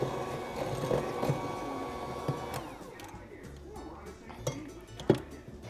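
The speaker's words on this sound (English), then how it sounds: "Now we're going to go to our electric mixer and get this all mixed in." An electric mixer blends brownie batter flavored with vanilla and mint extract, its steady motor whine running for about two and a half seconds before cutting off, followed by a few light clinks of bowl and utensils.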